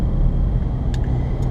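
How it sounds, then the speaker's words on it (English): Wind and tire noise inside a soft-top Jeep on 33-inch Goodyear Wrangler Duratrac tires at highway speed: a steady low rumble and whoosh, with a couple of faint brief clicks. "driving around in a soft top Jeep, you're going to get more wind noise, far more wind noise, than you will actual tire hum"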